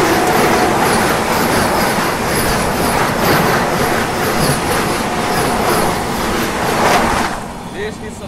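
The Banaras–Delhi Vande Bharat Express thunders past at close range with a loud, continuous rush of wheels and clattering rail joints. Voices can be heard faintly in the background before the noise fades near the end.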